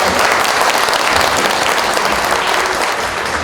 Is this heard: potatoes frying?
no